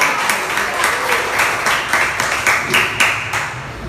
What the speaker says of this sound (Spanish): Dale ese aplauso a Dios, por favor.